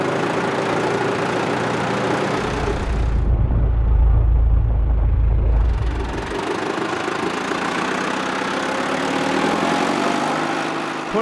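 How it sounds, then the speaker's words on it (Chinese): A tractor working on tidal flats on Islay, Scotland, gives a loud, close low engine rumble that swells in the middle as it passes, with steady outdoor noise before and after. "拖拉机在潮间带上来回作业"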